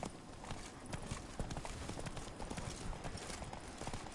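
Horse hooves galloping steadily in The Witcher 3 video game, a rapid continuous clip-clop rhythm over a dense, busy game background.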